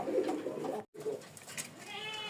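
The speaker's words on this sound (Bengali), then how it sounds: "এই জায়গায় একজোড়া গোল্লা কবুতর আছে, ডাকতেছে" A pair of Golla pigeons, a male and a female at a village farm, coo in soft, low, repeated calls. Brief higher bird chirps come in toward the end, with no talking.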